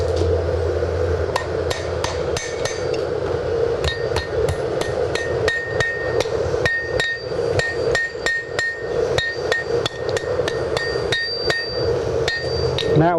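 A blacksmith hammers an iron point on an anvil to refine it, with rapid ringing metallic strikes in a fast, steady rhythm, loud and close, with no voices.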